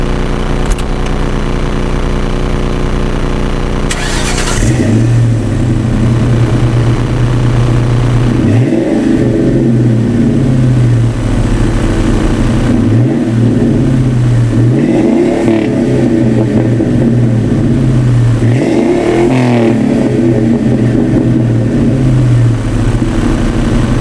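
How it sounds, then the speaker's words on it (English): Exhaust of a 2003 Ford Mustang GT New Edge convertible, warm and parked in the open: a loud, steady V8 idle broken by four evenly spaced throttle blips that swell and fall back. "a little taste of how the exhaust sound"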